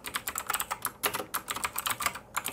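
Fast, steady typing on a computer keyboard, with dense, close clacking keystrokes continuing throughout and no talking.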